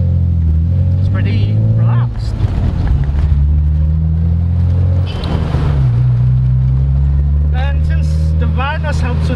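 A 1998 BMW M Roadster E36/7 cruising through the city at about 1,000 RPM in third gear, its engine a low steady drone heard from inside the cabin while someone talks over it.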